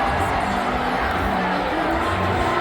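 A large concert crowd at a 2024 concert in Phoenix inside the Mullett Arena fills the space with a steady, dense roar of chatter and faint cheering, unbroken and loud throughout.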